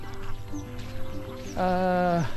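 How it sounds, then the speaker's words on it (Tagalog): Ducks quacking on a farm beside freshly harvested rice fields, a few nasal calls in the middle distance followed by one louder, longer quack, with faint outdoor background. "may itik dito"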